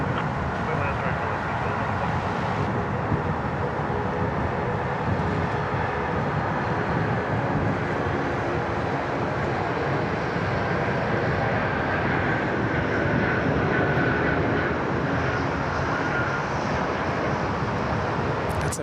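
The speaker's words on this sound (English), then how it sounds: "That's a very healthy takeoff roll, that one." A Qantas airliner bound for Santiago makes its takeoff roll at Sydney Airport: a loud, steady broadband roar of jet engines that holds without a break for nearly twenty seconds.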